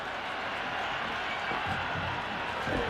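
A dense, steady roar of spectator noise fills a cricket stadium during an India versus Pakistan T20 match in Cricket 26, a broad wash of cheering crowd holding constant throughout with faint swells.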